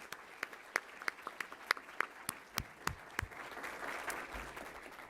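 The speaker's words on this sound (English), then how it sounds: "Can we have a round of applause for them" A small audience claps, scattered sharp claps at first building into a steady patter of applause, fairly faint and distant.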